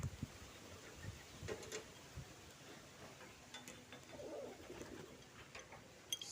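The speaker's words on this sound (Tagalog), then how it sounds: "Check natin kung kompleto yung mga alaga nating ibon." Pet pigeons in a dark loft coo softly in a few low, faint calls amid quiet rustling and scattered background noise.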